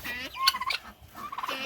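Turkeys gobble in a homestead pen with guineas nearby, a close, loud burst of warbling gobbles followed by a second, shorter call.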